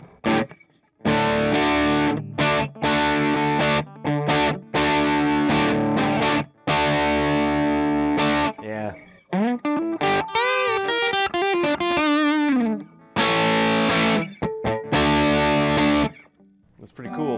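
Heavily distorted electric guitar through a very loud amp with the gain turned up and the master down, played in bursts of chugging chords and a bending lead run, separated by abrupt silences.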